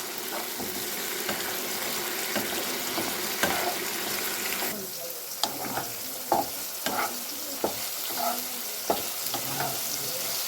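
Chopped olives go into a frying mola fish sour curry with cumin, ginger, chili and turmeric, bringing a continuous sizzle and repeated sharp spoon taps and stirring knocks against the pan.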